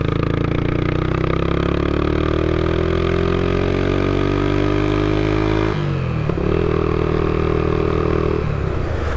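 1990 Honda GB500TT motorcycle engine while riding, a loud close engine note rising steadily through the revs, then a gear change and a steady pull at higher pitch before easing off.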